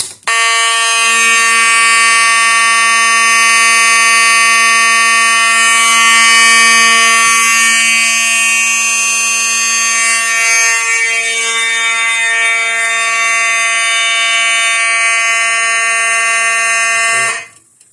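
A loud fire alarm horn blares continuously and close by, a harsh steady electronic tone that holds unbroken for about seventeen seconds before cutting off.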